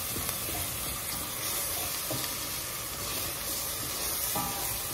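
Hot cooking oil sizzles and spits in a pan as turmeric-coloured vegetables fry, a steady close crackle with a few sharper pops, no voices.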